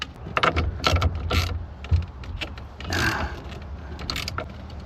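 A hand ratchet clicks in quick bursts while tightening the steering wheel nut on a 1988 Chevy pickup, with short pauses and a few metallic clanks between, close and fairly quiet.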